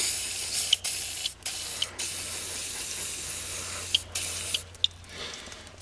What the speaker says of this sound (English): First thing you want to do is soak it in with some penetrating fluid.